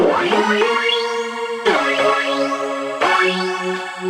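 Bright synthesizer chords strike three times, each a full stacked chord with sweeping, echoing effects that ring out between hits, no voices.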